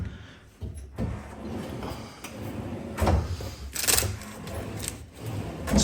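Newly fitted kitchen drawers and units slide open and shut in a run of rumbling glides and knocks, with a few sharper bumps near the end, close up and without talk.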